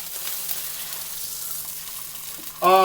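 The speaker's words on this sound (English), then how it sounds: "Ooh, yeah, he's sizzling." Steady hiss of rainbow trout frying in butter, continuous and close, with a louder burst of crackle near the end.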